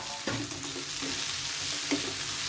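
Okra being stir-fried in a pan for a dry vegetable dish, a steady close sizzle with a couple of light scrapes of the spatula, alone and fairly quiet.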